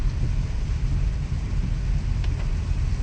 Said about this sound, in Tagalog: Yan, sobrang lakas ng ulan.